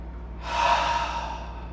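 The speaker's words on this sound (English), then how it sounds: "And then long exhale, maybe open mouth" A single long open-mouthed exhale during a yoga breathing round, starting after a brief quiet moment and sustained as a soft, breathy rush that slowly fades.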